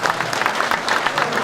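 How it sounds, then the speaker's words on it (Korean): Welcoming applause from the crowd at a Korean New Year's gathering as a guest is introduced, dense and continuous clapping at fairly loud level throughout the short stretch. "박수 환영해주세요."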